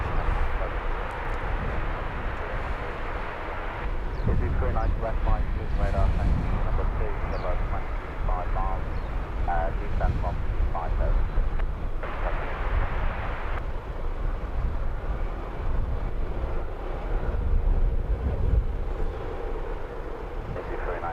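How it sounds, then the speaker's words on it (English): A Wizz Air Airbus A321neo departs London Luton Airport, its engine roar a broad, steady rumble that runs throughout at moderate distance beneath continuous talk. "the Wizz Air on your screens now is an A321neo off to Poznan"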